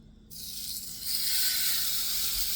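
Steaks seasoned with smoked applewood sea salt start sizzling on a grill after a brief quiet moment, settling into a loud, steady hiss that holds to the end.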